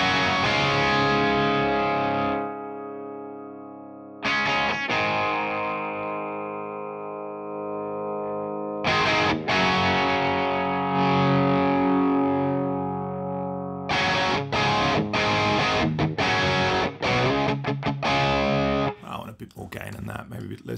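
Electric guitar played through a modelled Mesa Boogie Triple Crown amp with the gain turned down, giving moderately distorted, sustained chords that ring out and decay, separated by short gaps and ending in a quick noisy flurry.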